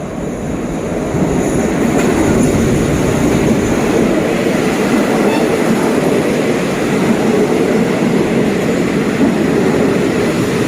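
Alsthom 4125 diesel locomotive hauling the Thaksin Special Express No. 37 rolls into Ratchaburi station, a steady loud rumble of wheels and engine holding throughout with no talk.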